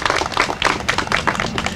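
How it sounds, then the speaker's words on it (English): Brief applause from a small crowd at a Prince George's County event, with distinct individual claps forming an uneven, close patter. "That deserves a round of applause."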